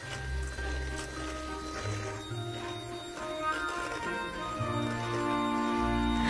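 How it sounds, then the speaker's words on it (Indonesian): An electric mixer whirs at high speed beating sugar, making a steady motor hum with tonal whine and shifting pitch as the beaters move through the bowl, fairly quiet and continuous with no talk. "Kemudian mixer dengan kecepatan tinggi."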